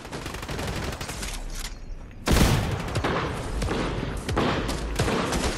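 Fortnite gunfire in a squad match: a quieter stretch of rapid shots gives way to a sudden loud burst followed by continued repeated fire and impacts, with faint voices present.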